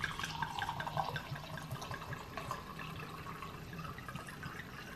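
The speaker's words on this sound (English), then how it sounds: "I got me some wine. Let me pour me some." Wine pours from a bottle into a glass at home, a faint, bubbling, gurgling trickle of liquid running steadily for several seconds at close range.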